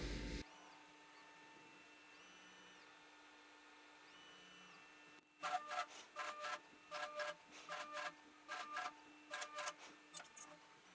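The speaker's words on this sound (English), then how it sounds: "roughing out the edge with this long half-inch spiral cutter" A CNC mill roughs out the edge of a custom beer tap handle with a long half-inch spiral cutter. A faint steady hum gives way to a series of short, whining machine bursts.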